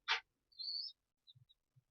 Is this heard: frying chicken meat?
no